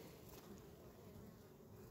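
Honeybees buzz steadily around an open hive during a September colony inspection, a continuous low drone of many wings, near and fairly faint, with no talk over it.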